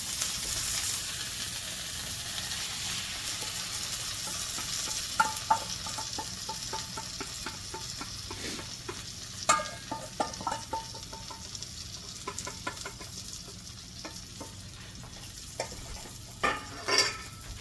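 Eggs hitting a pan over medium-low heat and being stirred, giving a soft steady sizzle with scattered scraping and tapping of the utensil against the pan, close by with no talking.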